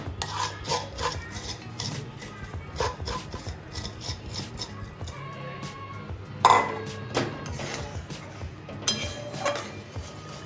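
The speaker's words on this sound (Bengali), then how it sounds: "লো ফ্লেমে আমি সুজিটা একটু একটু করে ঢেলে নেড়ে নেব।" A spoon rubs and scrapes semolina around a pan over a low flame, making a dry gritty rasp in repeated strokes with occasional sharper clinks against the metal, close and steady.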